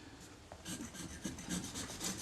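A scalpel blade scrapes corrosion and old glue off the aluminium casting of a Kodak Retina Reflex S camera body, giving soft, rhythmic rasping strokes that are quiet and close, with no talking.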